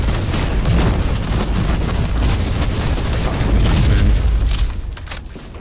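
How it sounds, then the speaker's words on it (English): A flashbang grenade goes off in the Warhammer 40,000: Inquisitor video game, a loud sustained boom with dense crackling rumble that holds for several seconds before tailing off at the end. "Flashbang out."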